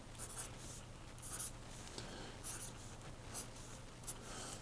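Pen strokes scratch out a treble clef on paper in a string of short, separate scribbles, quiet and close, with a faint low hum underneath.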